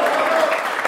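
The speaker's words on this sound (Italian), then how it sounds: "Applauso" Brief burst of audience applause in a comedy show, dense and loud, with a voice calling out over it.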